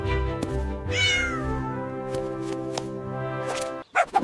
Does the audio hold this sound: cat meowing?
yes